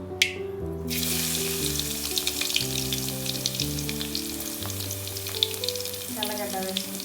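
Chopped garlic sizzling in hot oil for okra fry, a constant crackling hiss with scattered pops, nearly buried under loud sustained instrumental music with a sharp tap at the start.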